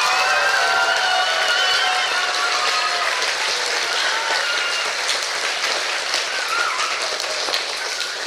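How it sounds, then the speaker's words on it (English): Sustained audience applause fills a school production of the musical Matilda, broad and steady clapping from a large crowd that continues throughout with slight swells and no talking over it. "We'll give Mrs. McNichol a big round of applause"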